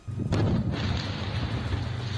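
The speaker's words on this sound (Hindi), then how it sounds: "तभी वहां एक जोरदार धमाका हुआ।" A landmine detonates near a steel plant during Russian mine-clearing work in the Russia–Ukraine war, a sharp loud blast followed by a deep rumbling roar that lingers and slowly fades.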